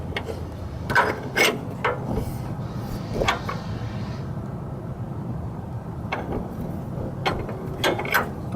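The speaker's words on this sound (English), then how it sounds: "So get the wrench in there." A ratchet wrench on the front shock nut of a 1997–2004 two-wheel-drive Ford F150, clicking in short bursts with pauses between turns, close and metallic.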